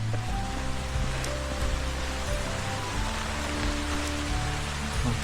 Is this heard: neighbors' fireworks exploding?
no